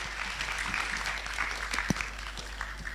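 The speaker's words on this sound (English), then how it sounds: "Give them a big round of applause" Steady applause from a crowd fills the whole stretch, a dense patter of clapping heard at moderate distance with one sharper thump partway through.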